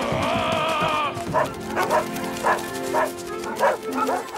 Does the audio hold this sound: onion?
no